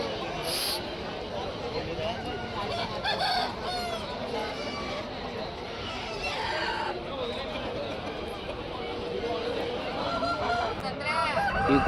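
A rooster crows amid the bustle of a Friday morning village livestock market in Thimiram, its call rising over steady crowd noise and nearby talking voices, with other fowl clucking around it.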